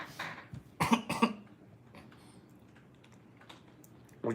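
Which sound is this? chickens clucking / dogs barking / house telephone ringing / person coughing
person coughing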